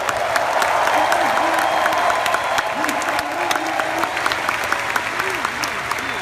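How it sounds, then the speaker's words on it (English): A conference room audience at a business event gives veterans a big round of applause, with sustained, full clapping and some cheering while a voice speaks over it intermittently. "Can we give them a big round of applause?"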